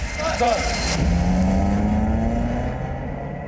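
A car speeds along with a steady engine drone whose pitch climbs slightly, heard close and fairly loud beneath some faint voices.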